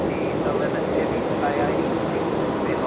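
An airliner rolls out after touchdown at Brisbane Airport, its engines back from idle reverse thrust, giving a steady broad roar that fills the scene evenly and loudly.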